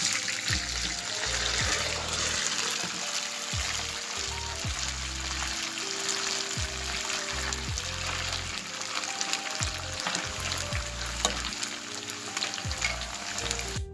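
Half-cooked chicken pieces fry in hot oil for chicken pickle, a loud continuous sizzle with repeated clattering stirs and scrapes throughout, no talk.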